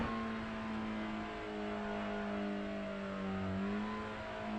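A TCR Hyundai in iRacing sits at a standing start with its engine held at steady high revs, a sustained droning tone wavering slightly up and down, fairly loud and alone without speech.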